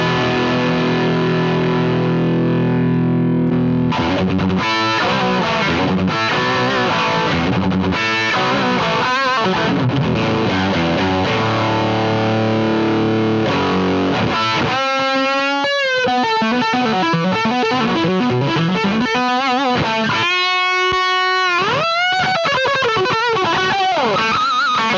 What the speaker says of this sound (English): Lots of hiss, but then there's lots of overdrive going on. High gain one.